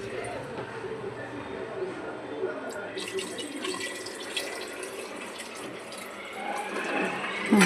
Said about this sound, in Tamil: தண்ணி ஊத்த போறேன்.